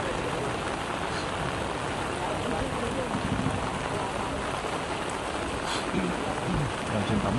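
Steady, dense rain patters on surfaces outdoors, a constant close wash of drops with faint voices underneath.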